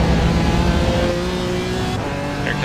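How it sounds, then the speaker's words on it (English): LMP3 prototype race cars in the iRacing sim rush past during a sports car race at Road Atlanta, a loud, dense engine drone that eases slightly as they go by. "Here come the LMP3s."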